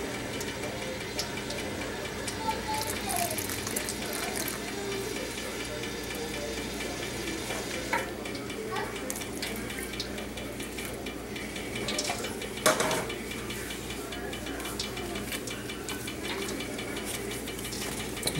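A fork stirs corn dog batter mixed with hot water in a bowl, a steady scraping and swishing that runs on for many seconds alongside a constant background hum.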